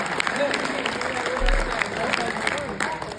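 Steady applause from an audience, a continuous rush of hand claps at moderate loudness, with a voice talking over the clapping throughout.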